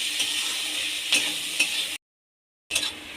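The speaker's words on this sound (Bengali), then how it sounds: "অল্প পরিমাণে নুন দিয়ে দেব, দিয়ে পেঁয়াজটা হালকা ভেজে নেব।" Onions frying lightly in oil with salt, a soft steady sizzle with occasional scraping stirs, close by, cut by a brief total silence before the sizzle resumes.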